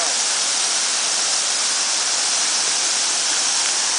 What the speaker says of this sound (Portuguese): Ó, tem uma mini cachoeira aqui.